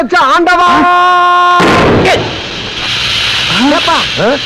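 A bus tyre bursts with a sudden loud bang, followed by a rushing hiss of escaping air, set among exaggerated comic voices and sound effects, with people talking around it.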